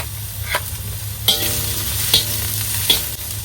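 Scallion whites sizzle steadily in hot oil while a spatula scrapes the wok in three or four distinct strokes, close and clear.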